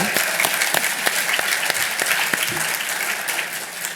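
An audience at a public policy institute event applauds steadily at moderate loudness, a dense wash of many clapping hands with a few sharper claps standing out, and no voices over it.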